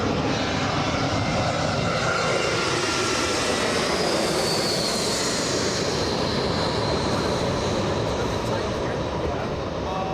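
A Spirit Airlines jet on flight 3102 to Atlanta roars steadily at LAX, its loud, broad engine noise filling the whole stretch with a slow shift in pitch as it passes.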